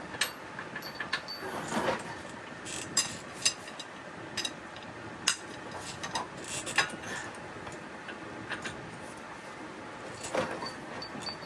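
Hand tool loosening a 12-point bolt on a Jaguar F-PACE front knuckle, a series of faint irregular ratcheting clicks and metallic ticks in a quiet workshop, with no talk.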